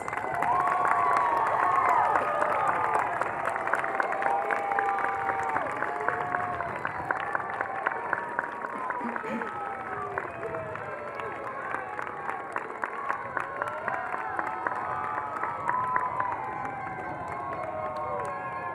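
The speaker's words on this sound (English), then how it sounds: "Graduates, stand up, face your families, and give them an enthusiastic round of applause." Graduates at a high school commencement ceremony applaud and cheer toward their families, a sustained wash of clapping with whoops and shouts running steadily for nearly twenty seconds in a large crowd.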